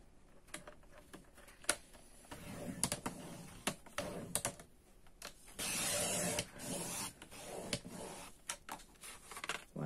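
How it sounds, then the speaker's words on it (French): A paper trimmer (massicot) slices through craft card cut to 16 cm, giving a run of close, sharp clicks and a short scraping swipe of the blade, heard alone in a quiet room. "Je vais essayer de le couper avec mon massicot"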